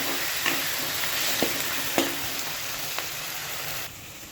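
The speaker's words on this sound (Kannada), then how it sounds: "ಅರಿಶಿನ ಪೌಡ್ರ್ ಹಾಕ್ಬಿಟ್ಟು ಟೊಮೊಟೊ ಎಲ್ಲ ಚೆನ್ನಾಗಿ ಫ್ರೈ ಆಗಬೇಕು." Tomatoes with turmeric powder fry in a pan with a constant close sizzle, broken by a few sharp taps and scrapes of a spoon, ending slightly quieter, with no voices.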